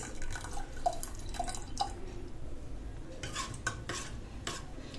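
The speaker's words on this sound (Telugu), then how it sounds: "నానేసి పెట్టుకున్న చింతపండు రసాన్ని వేసుకోవాలి" Tamarind juice is poured into mashed dal for a pappu charu and stirred, giving soft wet sloshing with light clinks of a spoon against the pot, close and fairly quiet.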